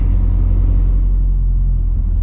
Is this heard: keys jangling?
no